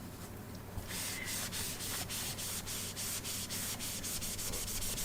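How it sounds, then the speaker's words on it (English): The top lid of a 2012 MacBook Air is scrubbed with electronics cleaner and a cloth, giving faint, rapid back-and-forth rubbing strokes. The strokes repeat steadily over a low background hiss. "Looks like with a little bit of scrubbing it will indeed come off."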